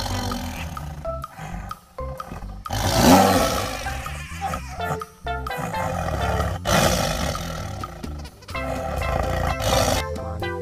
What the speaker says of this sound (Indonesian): Ini harimau teman-teman.